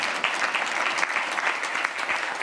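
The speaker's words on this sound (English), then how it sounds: "You can clap for that." An audience at a kickoff event claps continuously, a busy, evenly spread wash of many hands at moderate loudness with no speech over it.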